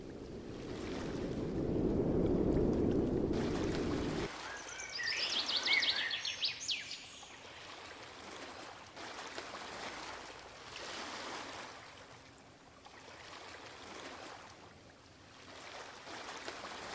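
Sea waves by the seaside at Marsa Matruh, Egypt: soft, continuous surf washing in gentle swells, with low wind rumble on the microphone at the start.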